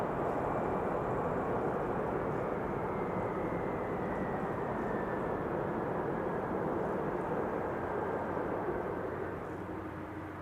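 A jet airliner rolls down the runway at Amsterdam Schiphol Airport, a steady broad roar heard from a distance that holds evenly for about ten seconds before easing slightly at the end.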